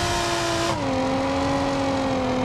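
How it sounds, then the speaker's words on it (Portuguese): A modded front-wheel-drive Golf in the video game BeamNG.drive revs loudly and steadily, its pitch dipping briefly before holding a strong, sustained roar with a whining turbo tone. "Que barulho insano desse carro."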